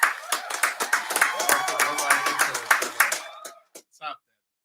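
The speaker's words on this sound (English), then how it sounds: "I want to give a round of applause for my brother Dewane, man" A small group claps for guest Dewane on a podcast, brisk close clapping under voices that thins out into a few last claps before silence.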